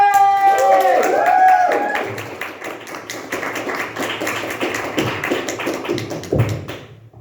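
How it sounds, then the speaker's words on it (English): An audience at a York comedy club breaks into applause for comedian Jeanette Wheatley, a dense crackle of many hands clapping that follows a brief announcing voice and fades out after several seconds. "please give a massive round of applause to Jeanette-Wheatley!"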